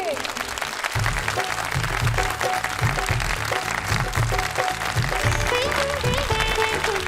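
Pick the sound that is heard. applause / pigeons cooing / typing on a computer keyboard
applause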